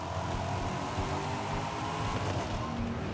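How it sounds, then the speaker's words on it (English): Car engine in Forza Horizon 5, a steady faint hum that drones on alone without variation. "Car engine drowns it out."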